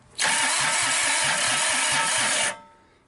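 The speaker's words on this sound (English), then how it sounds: "Okay, now we've got it to turn over here." Cummins A series diesel engine cranking over on its starter after years of sitting, a loud close whir with a steady rhythmic chug of compression strokes for about two seconds, then stopping without firing.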